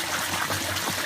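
Water trickling and cascading from one chamber to another inside a fish tank filter, a steady close gurgling stream with soft splashes.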